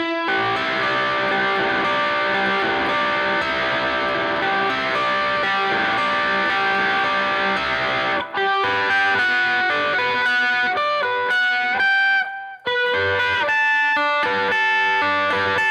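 A distorted electric guitar plays the intro of a song alone: sustained ringing chords at first, then a run of choppier picked notes and short breaks.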